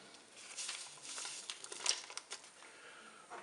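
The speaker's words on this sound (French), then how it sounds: "Je vais maintenant ajouter le sucre vanillé." Vanilla sugar poured from a packet into a dessert cream mix, a soft close patter and crinkle of fine grains lasting a few seconds, fairly quiet.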